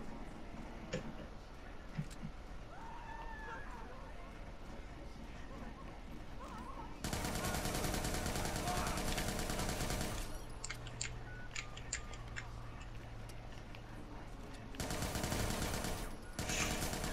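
Long dense bursts of automatic gunfire tear through a strip club in the video game Watch Dogs 2, the rattling volleys broken by quieter stretches with scattered clicks and faint background sound.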